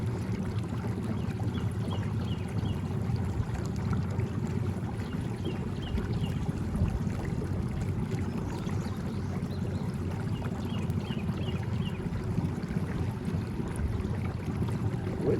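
A pirogue being paddled about 1.75 miles on a hot day: continuous soft water swishing and trickling with a low steady wash, close by, no voices.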